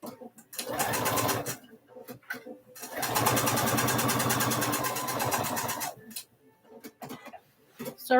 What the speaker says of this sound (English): So right now I'm just like sewing the panels together, the main panels and the lining panels.